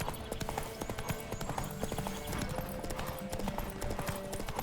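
Steady clip-clop of horse hooves trotting at a brisk, even rhythm in the video game The Witcher 3: Wild Hunt, close and continuous, with faint game-like background sounds.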